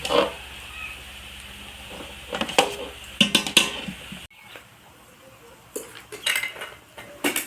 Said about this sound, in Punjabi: ਆਪਾਂ ਹੁਣ ਵਿੱਚ ਖੋਆ ਪਾ ਕੇ ਵਿੱਚ ਖੰਡ ਪਾ ਕੇ ਤੇ ਇਹਨੂੰ ਚੰਗੀ ਤਰ੍ਹਾਂ ਮਿਕਸ ਕਰ ਲਾਂਗੇ